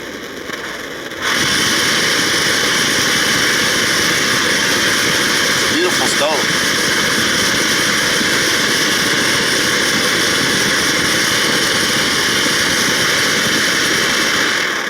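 A steady, loud broadband roar from the burning flame of an MSR Firefly pressurized camping stove, starting abruptly and holding constant throughout with a faint brief click partway through.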